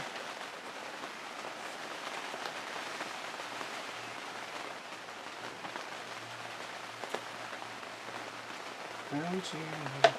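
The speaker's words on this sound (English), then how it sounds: "It's lovely to have the rain." Soft, steady rain patters on an allotment garden for the whole stretch, with a faint thump and a brief murmur of movement near the end.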